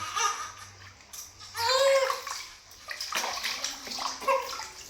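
Water sloshes and splashes as a baby boy is bathed and soaped, with soft babbling and giggly voices mixed in over a few seconds.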